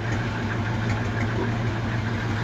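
An FNM truck with a Scania maçarico engine and a bus gearbox idles nearby, a steady low rumble with a slight rhythmic knock that stays constant throughout.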